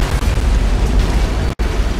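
An antimatter charge detonates aboard a ship in the Halo video game, a loud booming blast with rumbling low end that carries on, cut by a brief silent dropout near the end.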